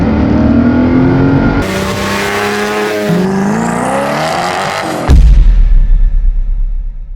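A loud engine of a carbon-bodied, modified VW Transporter van revs up and sweeps higher, then drops off with a thud before rumbling on, close and powerful.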